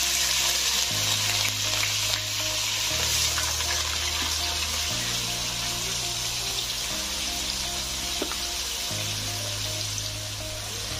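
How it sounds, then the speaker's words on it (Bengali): Chopped onions hit hot oil in a kadai while cooking a raw pumpkin curry with prawns, giving a steady close sizzle and crackle that runs for about eleven seconds with faint clinks of stirring, no talk. "তেল গরম হয়ে গেছে, আমি পেঁয়াজগুলো দিয়ে দিই।"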